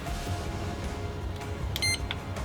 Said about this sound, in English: The beep, that means something.